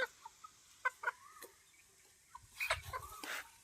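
Fighting-breed chickens and chicks on a farm give soft, scattered clucks and chirps at close range, with a denser, louder burst of clucking near the end.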